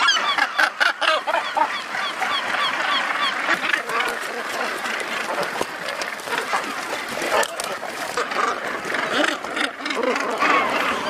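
Northern gannets call at the Bass Rock colony in Scotland, a dense, loud chorus of harsh croaking and honking from countless birds close by, continuous throughout.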